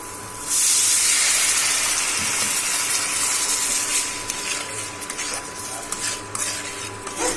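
Water poured into a hot pan bursts into a loud, sustained steamy hiss that gradually settles, with scattered clinks of utensils against the pan.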